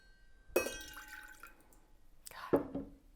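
Coconut rum goes into a glass for a cocktail in two short pours. Each begins with a sharp splash and trails into a thin liquid trickle, quiet and close by.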